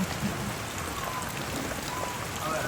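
Soft, steady patter of monsoon rain falling on surfaces around flooded houses, even and continuous, at a moderate distance with no voices.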